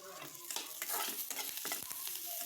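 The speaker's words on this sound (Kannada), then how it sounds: "ಕರಿಬೇವು ಹಾಕಿ ಅದನ್ನ ಹುರಿದು" Curry leaves frying in a pan for hotel-style dal sambar, with a steady crackling sizzle throughout and the scrape of a spoon stirring in short strokes.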